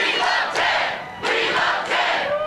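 A crowd gathered on the deck of a Cleveland restaurant for a Ted Cruz rally shouts and cheers in loud, swelling bursts that rise and fall, close by and filling the space.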